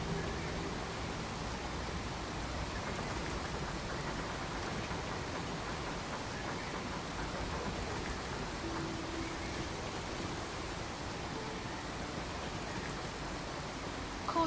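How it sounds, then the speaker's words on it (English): Rain falls on a settlement roof in the video game Fallout 4, played with the Sim Settlements 2 mod. It is an unbroken, even hiss of drops, fairly loud and constant, with no voices. "Caution, rain approaching. 雨が屋根を通過してしまいますね。"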